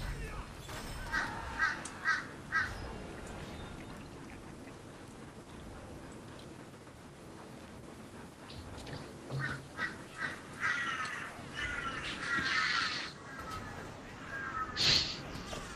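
Birds cawing in the online game Lord of the Rings Online, with several short calls early on and a denser run of caws later, set against quiet ambient background.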